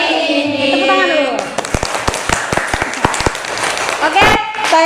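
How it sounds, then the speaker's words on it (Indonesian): A classroom of students bursts into applause after voices talking, a dense burst of hand claps following a short rhythmic clapping pattern, loud and near, with chatter mixed in. "Tepuk tangan dulu."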